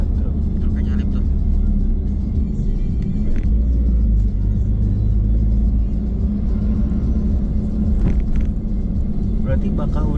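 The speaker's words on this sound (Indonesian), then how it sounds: "Oh bukan, truk. Truknya nyalip tuh." Truck overtaking on a highway toward Bakauheni, Sumatra, heard from inside a moving car as a steady loud low road rumble and engine drone throughout, with people talking over it.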